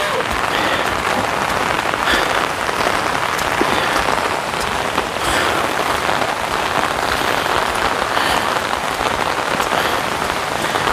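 Heavy typhoon rain pours down in a forest setting, a loud, unbroken roaring hiss of drops hammering surfaces, dense and constant from start to end with no pauses.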